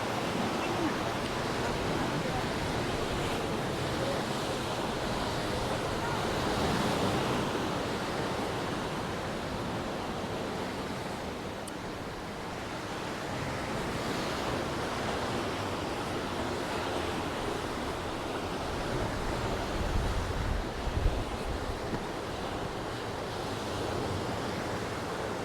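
Waves wash onto a tiny beach at Camp de Mar, Mallorca, a steady broad roar of surf with gusts of wind on the microphone, constant and fairly close.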